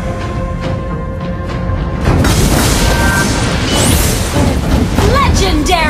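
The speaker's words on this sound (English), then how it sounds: "Destroyed a turret!" A heavy booming explosion as a turret is destroyed in the Mobile Legends mobile game, with loud layered game effects and an announcer voice over a dense, continuous mix.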